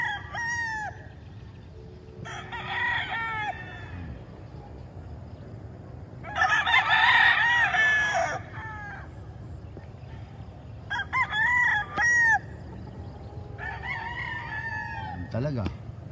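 Roosters crow repeatedly, several drawn-out calls at varying distances with chickens clucking between, over a low background murmur.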